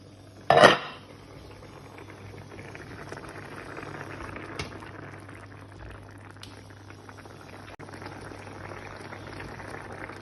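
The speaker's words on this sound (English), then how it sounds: "I'm gonna transfer it all to the slow cooker." Hearty beef stew is moved into a heated slow cooker: one loud close metal clank of a pot or utensil, then a soft continuous wet bubbling and scraping with faint occasional clicks.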